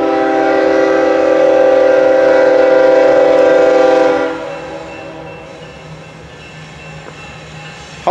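A CSX freight train in Hamlet, North Carolina, blasts a loud, sustained horn for several seconds, then fades into a steady, lower rumble of rolling railcars as it passes.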